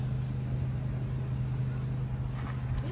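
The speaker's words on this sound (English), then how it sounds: "Whatever it is, it sounds like a beast." Dually zero-turn lawnmower engine running steadily nearby, a continuous low droning rumble with no change in pace throughout.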